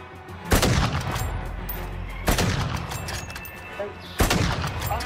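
Gunfire in Call of Duty DMZ: three sharp, loud shots spaced about two seconds apart, each with a booming tail over a steady background of game ambience.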